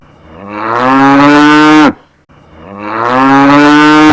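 Two long, loud cow moos close by, each a drawn-out bellow with a brief silent gap between them and no other sound.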